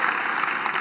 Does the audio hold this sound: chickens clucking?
no